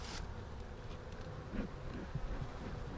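Honey bees hum steadily around a hive recently moved from Livingston, a low continuous droning buzz with a few louder passes close by, heard alone without voices.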